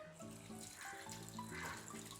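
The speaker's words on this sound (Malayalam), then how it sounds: "കുറച്ചുകൂടി വെള്ളം ഒഴിക്കാം അല്ലേ" Water is poured into a cooking pot of pork vindaloo, a soft, quiet continuous splash with faint tonal sounds running underneath.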